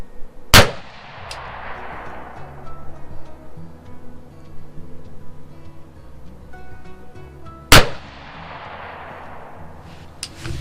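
Two sharp, loud rifle shots ring out about seven seconds apart while a Pulsar Thermion Pro 2 XQ50 LRF thermal scope is zeroed outdoors, each crack followed by a long fading echo and light background rustle between.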